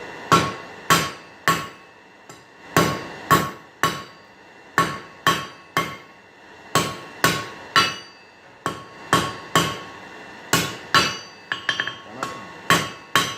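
Hammer blows forge a taper onto hot-cut steel for a decorative leaf on an anvil, sharp ringing strikes in quick uneven bursts with brief pauses between groups, close and loud with no talk.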